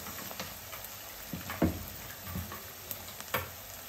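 Dried prawns tossed into a hot pan for a gonguura (sorrel leaf) curry, frying with a steady low sizzle and a few stirring scrapes, close up with no voices.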